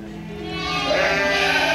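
A Dorper sheep gives one drawn-out bleat, close and clear, with no other sounds around it.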